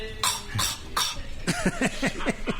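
A string of short, sharp coughs, about eight bursts, the first few spaced out and the rest coming quicker, fairly close and loud.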